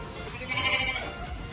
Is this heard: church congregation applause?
no